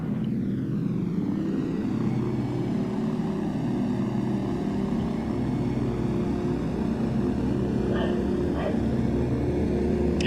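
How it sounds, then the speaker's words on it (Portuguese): Nord Noratlas twin-engine cargo plane in FSX spooling up for takeoff, a steady loud propeller drone with a rising whine held throughout, a couple of faint clicks near the end. "Vamos levantar então este Nord Atlas."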